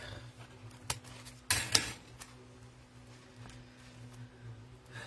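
Sharp metallic snip as a wire hanger is cut off the back of a wreath, a couple of quick clicks amid quiet handling, close and fairly faint.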